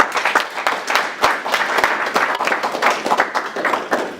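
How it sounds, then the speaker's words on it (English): An audience at a mentoring conference giving a round of applause for Mr. Russell, a lively stretch of many hands clapping with uneven rhythm, close and fairly loud, with no talk. "They definitely give him a round of applause."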